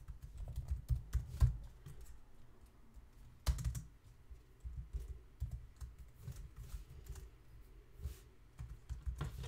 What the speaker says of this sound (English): I'm gonna type this in, so var objects.